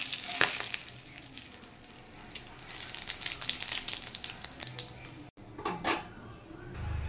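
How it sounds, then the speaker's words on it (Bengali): Dried red chilies, bay leaf and whole cumin crackle and sizzle in hot oil, a steady, fairly close fizz that cuts out briefly before resuming with a few sharper pops and a light clatter. "তেল গরম হয়ে গেছে, এখানে আমি দিয়ে দেব শুকনো লঙ্কা, তারপর দেবো তেজপাতা, এবার দেব গোটা জিরে।"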